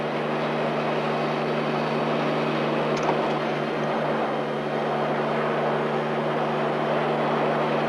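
A helicopter hovers steadily overhead, lifting a sling carrying a woodland caribou doe in Newfoundland; a loud, continuous engine and rotor drone holds level throughout with no talk.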